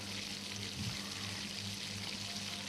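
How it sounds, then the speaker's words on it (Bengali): Chopped onion and green chili frying in oil in a wok, a steady close sizzling hiss that continues evenly throughout, with no talking. "অল্প আছে আমি পেঁয়াজটাকে ভেজে নিচ্ছি।"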